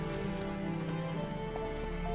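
Roach the horse's hooves clip-clop in The Witcher 3, a brief run of close hoofbeats over ambient game sound, with no talking.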